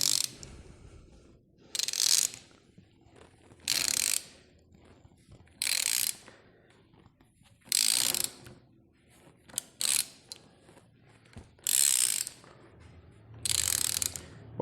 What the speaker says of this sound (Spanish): vamos a girar nuestro extractor para ir desmontando el engrane.